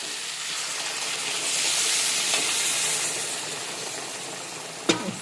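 Water hits hot oil in a pan with dried hilsa fish, setting off a loud, broad hissing sizzle that swells and then slowly eases, ending in a sharp clatter.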